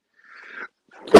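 A single quick sneeze: a soft inhaled build-up, a brief pause, then a sharp, loud burst at the end.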